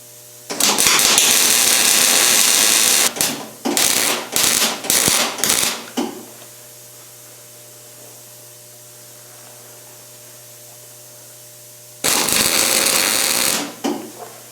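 Root-pass welding on a bevelled joint for a basket twist foot rail gives loud, harsh crackling buzz. A long burst is followed by several short spurts, a quiet stretch with a faint hum, then one more sustained burst.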